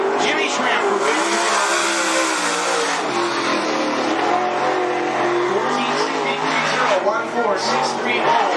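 A late model race car engine roars at close range on a speedway track, a loud sustained snarl with rising and falling pitch as the car accelerates and lifts, joined by faint tire noise and a commentator talking over it.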